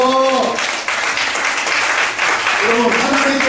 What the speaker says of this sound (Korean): 우리 만왕의 왕이신 하나님께 영광의 박수 드립시다.